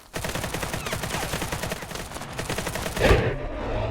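Rapid automatic gunfire in the shooter game Active Matter crackles in dense, evenly spaced bursts, followed by a single heavier blast near the end, all loud and close with no talking.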